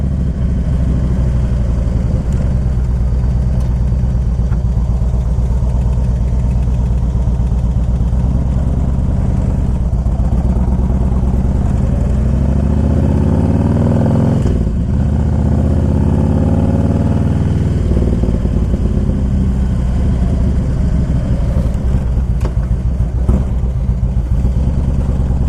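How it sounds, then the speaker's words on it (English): A fuel-injected 2000 Harley-Davidson Electra Glide Classic with about 79,000 miles runs steadily and close by, its deep, loping engine note holding throughout with a brief swell in revs partway through and no talking. "You gotta appreciate a good fuel injected bike."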